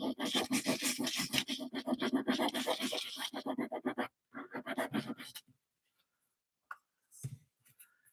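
A beveled sanding block rubs along the painted edges of a thrifted item to distress them, making fast, close, rhythmic scratchy strokes that stop partway, then a few sparse short rubs.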